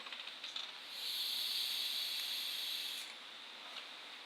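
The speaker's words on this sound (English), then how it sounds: "Sorry, I'm vaping." A long, soft hissing exhale of vapor from an e-cigarette, close to the mic, lasting about two seconds before fading, with faint breathy rustles around it.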